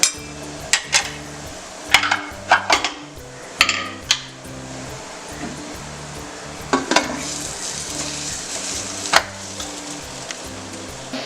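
Chicken for haleem fries in a pan, a steady sizzle running underneath while a utensil scrapes and clanks against the pan in irregular sharp knocks, loud and close.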